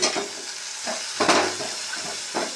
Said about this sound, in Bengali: এই যে সুপের এই সবজিগুলো দিয়ে দিচ্ছি, আলু, বিট, গাজর, পেঁপে